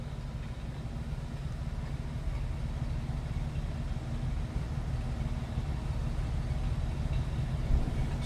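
A 1950 Plymouth Deluxe two-door sedan idles quietly and smoothly, a steady low rumble held at an even level throughout, with no voices.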